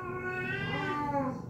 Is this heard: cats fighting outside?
yes